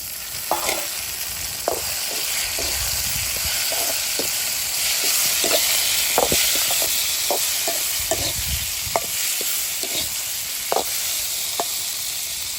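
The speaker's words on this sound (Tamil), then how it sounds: "வதங்கிட்டு தக்காளி சேர்த்துக்கிறோம்" Tomatoes sautéing in a hot pan make a continuous loud sizzle and hiss, with repeated sharp utensil scrapes and clicks as they are stirred. No one speaks.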